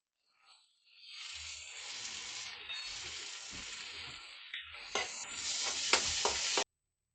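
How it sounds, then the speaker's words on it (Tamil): Chopped onion and green chillies sizzle steadily in hot oil in a kadai, with a continuous frying hiss broken by a few scraping stirs near the end, close and fairly loud. "இப்போ வெட்டி வச்சிருக்கிற வெங்காயம் பச்சை மிளகாய் போட்டு நல்லா வதக்கிடலாம்"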